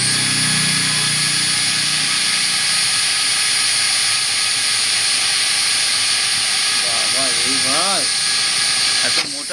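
INGCO 66 Nm brushless cordless drill boring through thick aluminium, a steady loud high-pitched whine with grinding texture held throughout, ending abruptly as the bit breaks through near the end.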